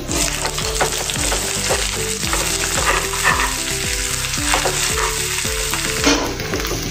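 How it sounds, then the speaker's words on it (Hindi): Onion paste fries in hot oil in a pan on a gas flame, a loud steady sizzle broken by repeated rhythmic scraping strokes of a spoon stirring it, with no voices. "अभी इसमें हम जो प्याज का पेस्ट तैयार किया था वो इसमें डाल देंगे।"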